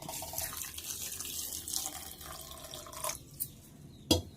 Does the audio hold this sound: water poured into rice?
yes